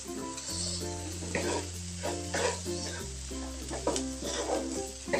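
Egg, onion and shrimp paste stir-fried in a pan for tumis telur bawang terasi, a steady close sizzle under a continuous low tone, with repeated scraping bursts as the mixture is turned, no talk.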